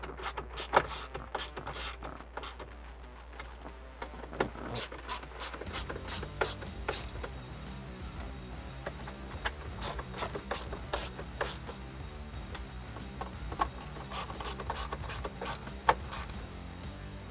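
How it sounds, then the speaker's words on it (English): A ratchet with a 9/32 socket tightens screws while a 2005-2008 car's navigation unit is installed, giving a near, steady stream of rapid pawl clicks in repeated bursts throughout. "Grab your 9/32 socket and tighten those guys down."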